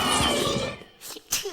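A cartoon character sneezes with a sharp, loud burst after a brief wind-up, followed by a short pause and a smaller breathy sound, with a bit of voice just before.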